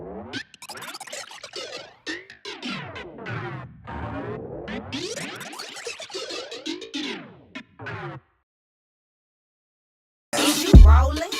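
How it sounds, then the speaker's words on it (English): The main wavetable synth sound of an EDM drop in a track, run through an echo effect. Swooping, warbling sweeps repeat for about eight seconds, then a pause, then a loud burst. "basically that's the main sound with the echo effect on it,"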